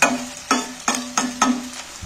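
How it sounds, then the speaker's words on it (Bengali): Onions stirred and fried in oil for a Bengali steamed egg dish, with four or five scraping stir strokes at a steady rhythm over a continuous close sizzle. "পেঁয়াজগুলো আমি তেলের মধ্যে নাড়াচাড়া করে পেঁয়াজগুলোকে একটু ভালো করে ভাজতে হবে"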